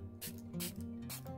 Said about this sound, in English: So I'm just going to spray